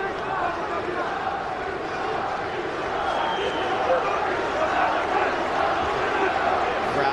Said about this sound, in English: Crowd once again vocal in its support of Islam Makhachev.